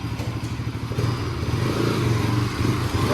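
A motorcycle at a service centre for its first servicing runs with a steady, close engine chug that pulses evenly and swells slightly toward the end, with no talk over it.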